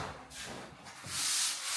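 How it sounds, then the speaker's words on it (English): Old wooden window frames being sanded by hand, rough abrasive rubbing strokes in uneven back-and-forth bursts, close and fairly quiet with no talk. "There's a lot of wood to be sanded and prepared, all of these old frames"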